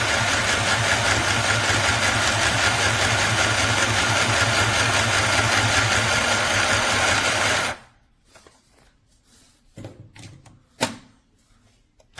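A KPCB Tech mini electric sewing machine runs steadily for about eight seconds with a loud, fast mechanical whir, then stops, leaving a few faint clicks and handling knocks.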